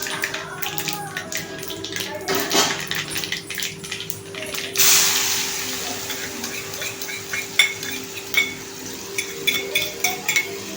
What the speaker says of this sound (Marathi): आता आपण ह्याच्यामध्ये हिरवी मिरची आणि लसूणची पेस्ट टाकूया